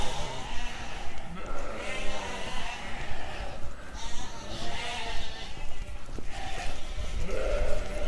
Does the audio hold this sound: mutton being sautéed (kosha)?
no